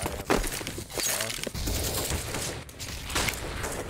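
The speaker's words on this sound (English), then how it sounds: "I am throwing a flashbang" A flashbang grenade goes off in Counter-Strike: Global Offensive amid a busy, noisy mix of bursts, crackles and shattering-like impacts that stay loud and dense throughout.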